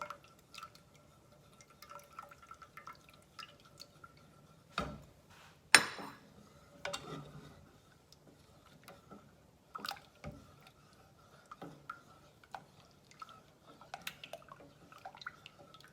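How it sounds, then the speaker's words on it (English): Quiet liquid drips and trickles into a bowl of eggs being tempered for peanut butter pie, with soft splashes and occasional clinks, close and faint, with no talking. "So I'm going to pour this in slowly."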